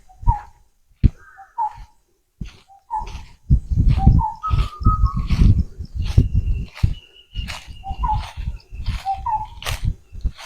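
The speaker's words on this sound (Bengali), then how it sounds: "পাখির ডাক আপনারা শুনতে পাচ্ছেন" Several birds call back and forth nearby, short whistled notes and chirps scattered among rustling and soft knocking sounds.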